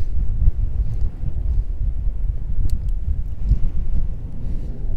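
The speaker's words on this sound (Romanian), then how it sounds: "Deja văd că a început să bată și vântul mai tare." Strong, steady wind during a mountain storm buffets the microphone on a plateau in Romania's Grohotiș Mountains, with a constant low roar and rumble, rising and falling in gusts throughout.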